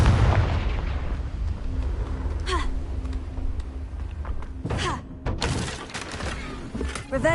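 Confringo fire-blast spell going off in Hogwarts Legacy on PS4, a heavy booming explosion with crackling debris and rumble, followed by further sharp magical bursts, loud and close.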